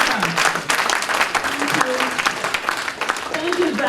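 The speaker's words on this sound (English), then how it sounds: "please, a round of applause to all my authors." An audience at an aviation careers conference claps for the authors, a dense, continuous round of applause with a speaker's voice heard over the clapping.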